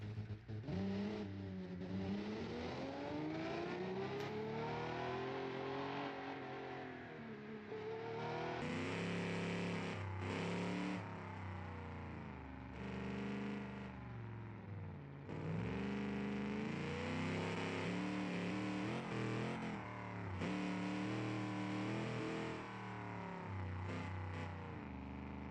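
AI-driven race cars from a 1980 practice session, including McLarens, run laps in BeamNG.drive, with continuous engine drone rising and falling as they accelerate, shift and pass, loud and unbroken with no talk.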